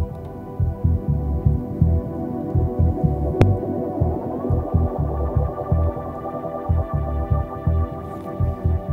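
Electronic music in Ableton Live with a bandpass filter applied, a steady throbbing low kick pulse under sustained droning synth tones that slowly shift and sweep midway, loud and continuous with no voices.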